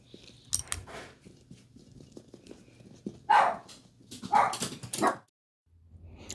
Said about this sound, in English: My dog started barking, Mika and Riku, when the postman came to the